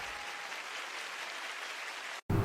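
A church congregation applauds during a praise service, a faint, even wash of clapping that holds steady before cutting off abruptly near the end.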